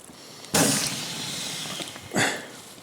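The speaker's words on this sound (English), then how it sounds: "There's the air coming out the bag." Air rushing out of a bag outdoors, heard as two broadband hissing bursts, the first loud and sustained for over a second, the second shorter, over faint background noise.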